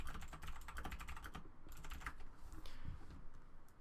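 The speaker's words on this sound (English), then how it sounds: "go to Google and type in Super Mario coin" Typing on a computer keyboard: rapid, close clusters of key clicks in quick bursts with a brief pause midway, no talk.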